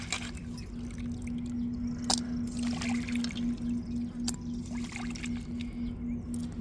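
Dried fish (karuvadu) being rinsed in water, with soft close sloshing and splashing and occasional sharper drips over a steady low hum.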